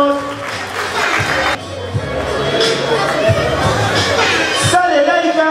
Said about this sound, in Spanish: Un fuerte aplauso por favor para Diana Mod.